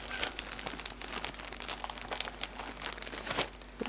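Plastic Ziploc bags filled with fabric crinkling in a basket, a close, busy run of rustling and crackling that rises and falls in short bursts for a few seconds.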